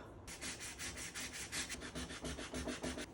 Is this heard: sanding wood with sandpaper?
yes